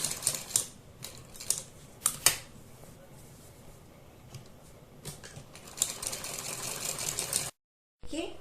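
A sewing machine stitching a cloth neckline runs in short bursts of rapid mechanical clatter, quieter between runs, with a brief silence near the end.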